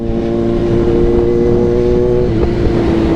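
A motorcycle cruises steadily across the Panguil Bridge, its engine holding a loud, even drone close up with no pauses throughout.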